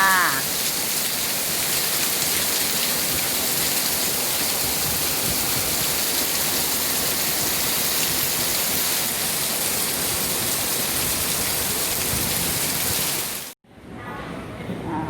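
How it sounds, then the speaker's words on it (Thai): Heavy rain pours down in a dense, loud, unbroken roar for most of the stretch, then cuts off abruptly near the end, leaving a quieter background. "วันนี้ฝนตก บ้านใครตกก็แจ้งหน่อยนะ"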